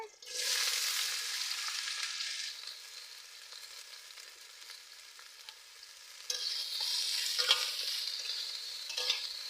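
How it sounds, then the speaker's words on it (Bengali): Freshly caught, cleaned pond fish frying in hot oil in a kadai: a steady, close sizzling hiss that surges loudly at the start, eases to a quieter simmer, then swells again with a few sharp crackles. "তেল দিয়ে দিচ্ছি আমি কেটে পরিষ্কার করে ধুয়ে এনেছি কড়ার মধ্যে দিয়ে দিচ্ছি"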